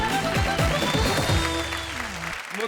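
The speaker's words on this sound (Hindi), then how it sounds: "तालियों के साथ मुकेश गौतम" A studio audience at an Indian comedy show applauds to welcome a comedian, producing a dense burst of clapping that stays loud and steady before easing off slightly toward the end.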